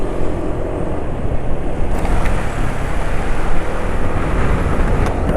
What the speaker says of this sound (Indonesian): Ini suaranya di RPM rendah nggak begitu halus ya, ada asak-asak sedikit.